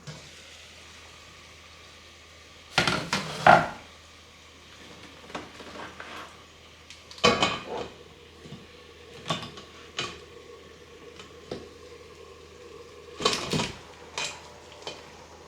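Metal pots and a lid clatter in several loud bursts, separated by quieter scrapes and clinks of kitchenware, close by and with no voices, while crabs are cooked in a pot of salted water.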